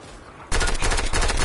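Sudden burst of rapid automatic gunfire from a video game kicks in after a quiet moment, loud, dense and continuous to the end.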